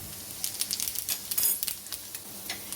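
Finely chopped garlic and cumin seeds sizzle in hot oil for a chana dal tadka, giving a soft, steady hiss dotted with quick crackles and pops.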